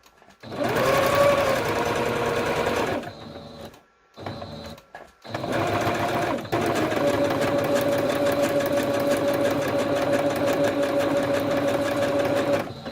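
A sewing machine stitches paper collage strips in a long steady whirring run, stopping briefly twice before carrying on at a constant rapid pace, close and loud with no talk.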